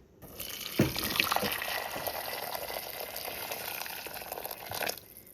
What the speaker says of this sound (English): just pour some boiling water on it.